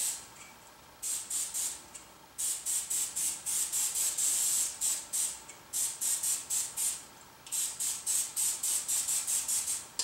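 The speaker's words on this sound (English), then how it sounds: "I just use non-stick cooking spray and it's been fine" Non-stick cooking spray is sprayed into a springform pan for a high-protein cheesecake. Repeated short hissing bursts come in quick rhythmic clusters, close and fairly loud, with brief pauses between groups and no talking.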